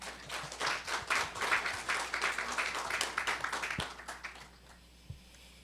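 An audience at a natural gas energy forum claps to welcome a speaker, with moderate, lively applause that swells for a few seconds and then thins out into a few scattered claps.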